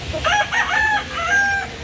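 A rooster crows loudly and close at a poultry market, one drawn-out cock-a-doodle-doo in two stretched phrases, with no talking.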